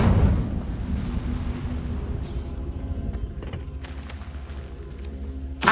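The Incendio fire spell in the video game Hogwarts Legacy erupts with a loud rumbling whoosh that settles into a sustained low roar with scattered crackles and pops, ending on a sharp burst.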